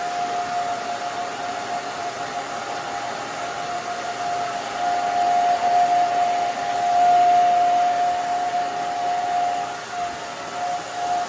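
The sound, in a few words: blow dryer drying hair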